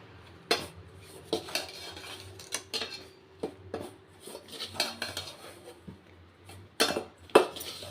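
Metal spoon stirring and scraping hot ragi dough in a pan, a string of irregular clinks and scrapes at close range with quiet gaps between strokes.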